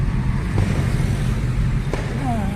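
A car engine hums as a steady low rumble from inside or beside the vehicle, with faint voices and a brief high whistle-like tone near the end.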